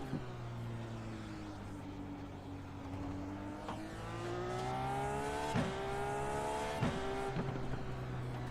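Race car engine in iRacing rolling into pit lane, a steady droning tone with layered harmonics that rises gradually as the car moves, plus a few brief sharp blips along the way.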